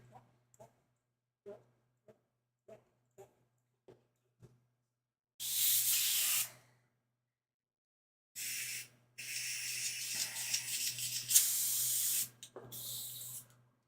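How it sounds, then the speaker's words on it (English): An airbrush sprays paint in short hissing bursts, about a second, then several seconds in two spurts, over a faint steady hum. Soft ticks come before the spraying, and there is no speech. "I think that will be it for the airbrushing."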